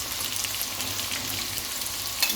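Chicken frying in hot oil and ghee, a steady close sizzle with fine crackling running evenly throughout, no talk.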